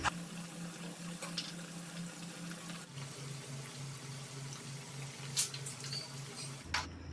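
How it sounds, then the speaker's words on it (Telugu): Banana pakoda batter deep-fries in hot oil over a medium flame, a soft, continuous sizzle and bubble with a few faint clinks, heard close and low. "మిక్స్ చేసుకొని వేడి ఆయిల్లో పకోడీ టైప్లో వేసుకుందాం"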